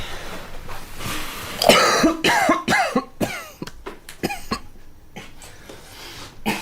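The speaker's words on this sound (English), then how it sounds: "Did you just cough?" A series of short, sharp coughs in quick bursts, fairly close, with some throat clearing mixed in and brief quiet gaps between.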